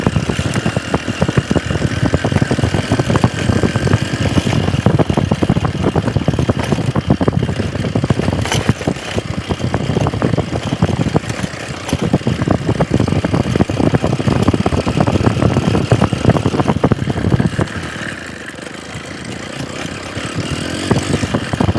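A motorcycle engine runs loud and close while riding out to a farm field, a steady rough rumble that eases briefly near the end before picking up again.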